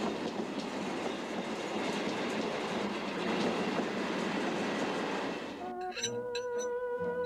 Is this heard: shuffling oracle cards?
no